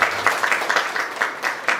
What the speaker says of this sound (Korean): 1영역 선생님들께 다시 한번 큰 박수